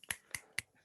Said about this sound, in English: snap my fingers and I'd be